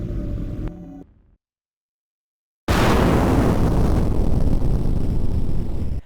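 In the PS1 game Overblood, a sample spray can explodes in a sudden, loud burst that roars into a sustained, noisy rumble after a moment of dead silence.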